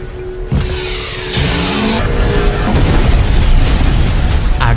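A loud, sustained boom and roar, like an explosion with a rumbling, crackling blast filling the space.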